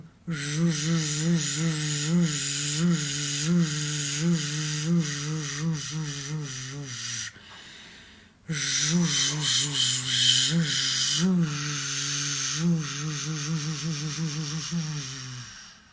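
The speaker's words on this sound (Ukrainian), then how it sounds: "На видих звуком ж." A voice exhales in a long, buzzing 'zh' hum, pauses briefly for breath, then buzzes out again in a second long exhale.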